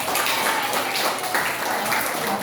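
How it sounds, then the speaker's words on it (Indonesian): Students in a school classroom or exercise session applaud classmates who made a catch, a brief, even burst of many hands clapping at a steady level throughout. "kasih tepuk tangan untuk yang dapat"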